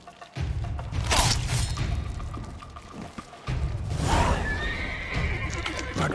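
Horses in the video game The Witcher 3: Wild Hunt whinny loudly twice, long shrill neighs over rumbling hooves and low thumps, close by.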